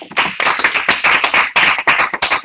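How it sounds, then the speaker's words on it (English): Morning church congregation at a training session clapping for themselves: loud, close, rapid hand claps in an irregular flurry, with brief gaps in the rhythm. "Now, I want you to give yourselves an applause this morning."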